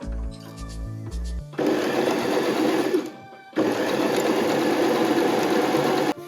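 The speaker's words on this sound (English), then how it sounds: "Just finished sewing the darts" A sewing machine stitches darts in a dress shirt with two long, loud, steady runs of rapid whirring and rattling separated by a short pause, after a brief tonal beeping at the start.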